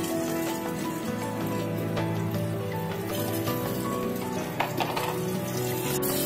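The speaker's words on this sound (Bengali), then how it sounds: "আর সাথে আলুগুলো দিয়ে একটু ভাজা ভাজা করে নিচ্ছি" Steady, dense sizzling of potatoes frying in hot oil with salt and turmeric, a continuous crackle with a low background hum and no talking.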